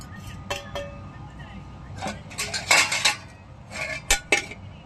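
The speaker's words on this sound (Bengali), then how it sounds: "এবার আমি এই মাছটা বেড়ে দেবো।" Spoon clinking and scraping against a pot while fish curry is served, several irregular metallic knocks and scrapes close by, with a person talking over them.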